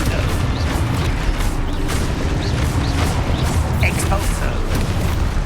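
A Confringo fire spell in the Hogwarts Legacy video game blasts amid a dense, continuous wash of booming magical combat, with repeated bursts and crashes under steady loud background noise and a voice shouting over it.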